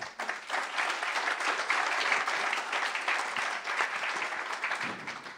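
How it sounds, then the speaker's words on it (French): An audience at a corporate event applauds a presenter who sponsored it, a steady wash of many hands clapping that holds for over five seconds, moderately loud and even, with no voices on top. "Je vous demande de l'applaudir."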